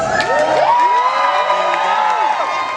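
A charity gala crowd cheers and whoops continuously, with high excited shouts rising and falling over a dense, loud roar of voices close by.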